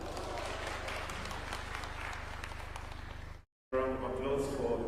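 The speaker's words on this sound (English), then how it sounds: "Round of applause for Nancy." An audience applauds at a Blue Economy Summit at Tom Mboya University. A few seconds of sustained, fairly distant crowd clapping break off briefly and give way to a voice speaking.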